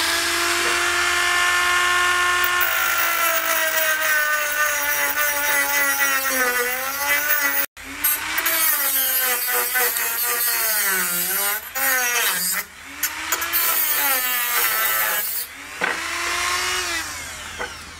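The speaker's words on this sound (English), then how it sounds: "It's cut through a piece of thin wall copper pipe, so that's going to be quite hot" A rotary tool from a drill and bit set cuts through thin-wall copper pipe, a loud continuous high whine that rises and falls in pitch as the cut bites, with a brief break before grinding on to the end.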